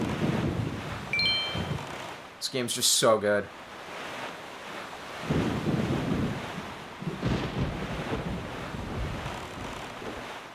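Stormy wind and crashing ocean waves roar in The Legend of Zelda: The Wind Waker, a broad continuous wash of surf and gusts with a brief thunder-like burst, under someone talking.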